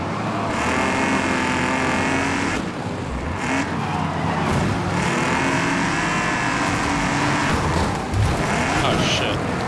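A race car engine in Wreckfest 2 roars loud and continuous, revving and shifting through gears with no pause over the whole stretch.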